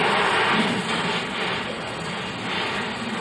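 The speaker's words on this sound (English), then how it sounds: "There's another plane, you can hear another plane." An airplane passes overhead outdoors, a broad, steady roar of engine noise that swells slightly and fills the whole moment, with no talking.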